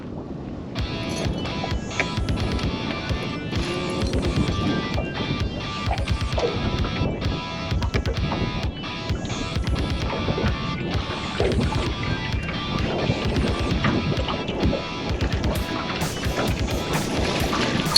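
Continuous wind buffets the microphone with a rough, fluctuating rumble on a cold February day of bass fishing, and water and boat noises mix in throughout.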